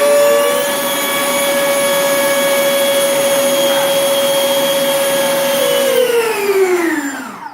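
Electric jet motors on an Art Tech F-14 RC model held at full throttle, a loud steady whining roar with strong tonal harmonics that winds down sharply near the end.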